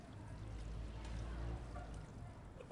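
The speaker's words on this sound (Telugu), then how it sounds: "వాటర్ అంతా బయట అయితే పోసేయాలి మొత్తము." Pasta cooking water poured out of a pot at a rooftop camp, a steady close splashing gush that runs continuously for a few seconds.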